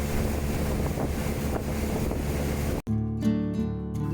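Steady roar of a motorboat engine on the ride to Bako National Park, Sarawak, with wind buffeting the microphone and water rushing past, briefly cut off near the end before resuming.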